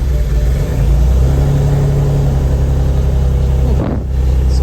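A 2008 BMW 335i with a rough idle and intermittent no-start cranks and runs with a loud, steady engine drone, then a brief dip and surge.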